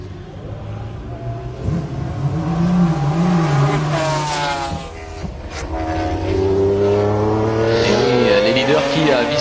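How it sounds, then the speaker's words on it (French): A race car at the 1995 24 Hours of Le Mans brakes hard and downshifts, its engine note falling and then climbing again, with tyre noise. A commentator speaks over the passing car. "Freinage très appuyé. Freinage très optimiste."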